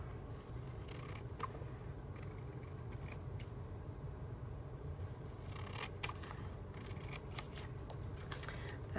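Scissors snipping through paper for a junk journal, a run of light crisp cuts and rustling handled close by, fairly soft against steady room noise with no voices.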